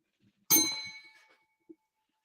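A single bright bell struck on a podcast show, a sharp metallic ding that rings out and decays over about a second, followed by a faint small tap, with nothing else around it.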